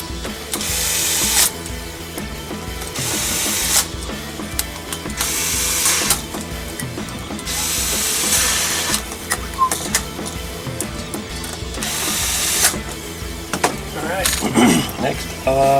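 A Milwaukee cordless drill set to torque 4 drives screws into a Gungnir Multibit mining board build, with repeated bursts of whirring and ratcheting separated by short pauses.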